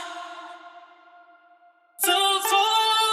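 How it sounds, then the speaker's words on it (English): Melodic dubstep passage with bell tones layered over vocals: a sustained bright harmonic tone fades out, then a dense, loud burst of layered bells and synths slams in for the drop, reverberant and full. "I added a few bells as a layer to the vocals."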